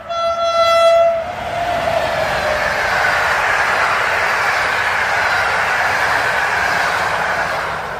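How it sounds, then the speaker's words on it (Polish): A train in a forest sounds its horn in loud, sustained tones, then rolls past with a steady, roaring rumble of wheels and cars that fills the rest of the clip. "wrzuciliśmy na YouTube'a film po prostu, jak sobie pociąg przejeżdża przez las"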